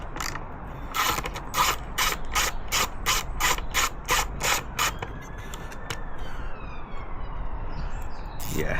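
A ratchet tightens bolts on the airbox of a Yamaha WR125X motorcycle, a rapid run of about a dozen sharp clicks in the first five seconds, then quieter shop noise with a brief clatter at the end.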